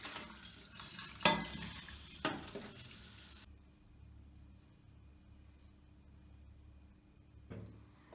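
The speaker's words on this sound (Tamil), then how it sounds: "இப்போ இந்த ஒரு கிளாஸ் இட்லி அரிசியை நல்லா ஒரு 4 தடவை கழுவி நம்ம ஊற வச்சுக்கலாம்." Idli rice being washed in water: swishing, sloshing bursts with a few sharp splashes for about three seconds, then near quiet with another brief splash at the end, faint overall.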